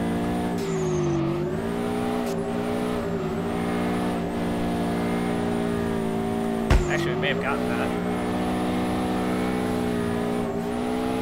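Subaru BRZ engine in the driving game DRIFT21, a steady droning tone that holds loud throughout and dips briefly around a sharp thump, with someone talking over it.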